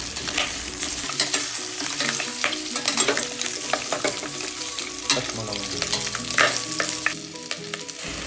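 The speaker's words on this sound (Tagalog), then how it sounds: "Hahaluin lang natin ito para hindi dumikit sa ating kaserola." Pork trotters sizzle in a pot while a utensil stirs and scrapes repeatedly, with irregular clanks against the pan close by.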